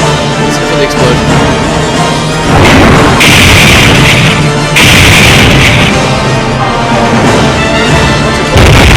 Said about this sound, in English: listen for the explosion.